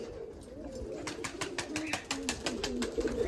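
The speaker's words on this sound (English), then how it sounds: "You're a good pigeon, aren't you?" Oriental Roller pigeons coo softly and continuously at close range, with a light rhythmic patter of rain or tapping over the calls and no speech.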